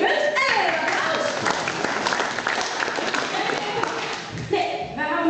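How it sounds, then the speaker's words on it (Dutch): An audience at a village family quiz in Marsum applauds, steady dense clapping that fills the room from start to finish, with a few voices over it near the end. "En applaus."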